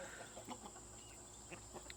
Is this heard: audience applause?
no